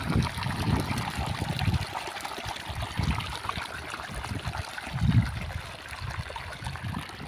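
Water from a solar-powered pump gushes steadily beside a rice field, a continuous broad rush with heavier low surges that swell and fade every second or two, with no talk over it.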